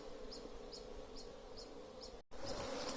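A wild honeybee swarm, being gathered on a white sheet beside a hive, fills the air with a dense, continuous buzz. Bees pass close by, and the sound cuts out for a split second.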